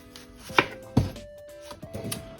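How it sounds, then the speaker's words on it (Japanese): A knife cuts through a new onion on a board, peeled and trimmed for a miso pickle, giving two or three distinct chops with short gaps between them and no talk. "新玉ねぎ切っていきます"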